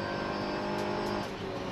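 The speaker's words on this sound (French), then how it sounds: "Maxime le laisse passer dans la ligne droite" A Seat touring race car in a TCR Benelux race at Mettet, roaring along the straight with a loud, steady engine drone close by and a brief whoosh as it passes.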